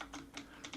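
A few quick, soft clicks of keys on a computer keyboard as a search is typed, close and quiet with no one speaking.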